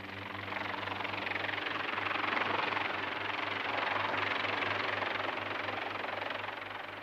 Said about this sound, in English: Cousteau returns from his reconnaissance and the helicopter descends to its landing platform on the stern of Calypso